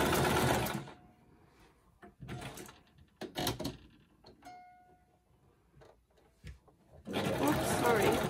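Sewing machine zigzag stitching small fabric scraps for little envelopes, loud bursts of rapid stitching at the start and end with brief stop-start runs between, close by, with a person speaking at times.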